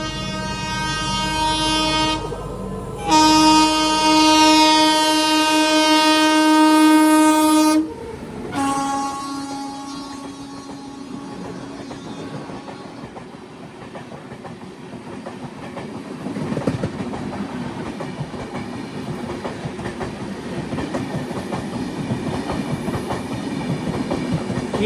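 The Karnataka Sampark Kranti Express overtakes the Rapti Sagar Express near Sonegaon station, opening with a loud, sustained horn blast in two long sounds, then a steady rolling rumble with rhythmic clickety-clack of wheels passing close by.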